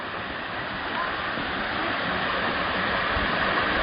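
Song Sou waterfall runs at low dry-season flow, a steady broadband rush of falling water heard close by with no break.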